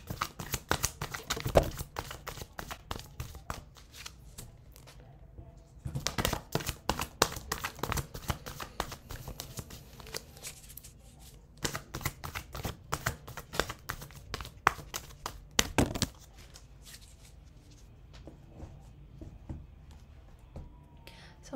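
Tarot or oracle cards shuffled by hand in quiet bursts, quick riffling clicks and taps that come and go, with pauses between rounds.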